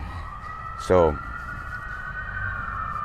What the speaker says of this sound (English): Got an ambulance going down the road.